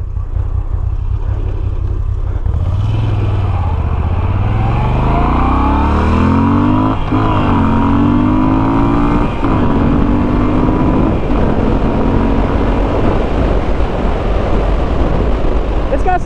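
A 2021 Moto Guzzi V7 motorcycle engine rises and falls in pitch as the bike accelerates and shifts through gears, loud and close under steady wind noise.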